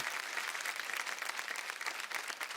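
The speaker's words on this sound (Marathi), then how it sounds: "जोरदार टाळ्या होऊन जाऊ द्या श्वेतासाठी." Studio audience on a Marathi TV show, Apsara Aali, breaking into dense, even applause that holds steady throughout, full and close with no talk over it.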